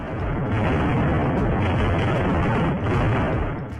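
Continuous heavy rumbling roar with repeated deep booms blending together, distant and sustained, like a series of large explosions.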